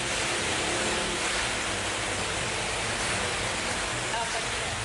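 Heavy rain driven by strong wind during a thunderstorm in Maros Regency, South Sulawesi, a dense, steady roar of water and gusts that fills the whole short stretch.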